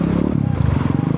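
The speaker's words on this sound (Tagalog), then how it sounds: "Ayan na yung motor ni kuya." A cruiser chopper motorcycle rumbles close by on a flooded street in Angeles City, its deep, throbbing engine loud and steady through the brief moment.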